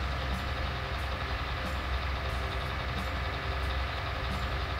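Truck engine in a farming video game, a constant low rumbling drone with a faint regular ticking above it, steady and unbroken, with no speech.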